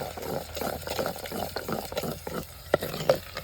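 Ginger garlic paste frying in oil in a pan for a village-style chicken kofta sherwa, a steady close sizzle broken by a regular rhythm of stirring scrapes and a couple of sharper knocks, with no voices.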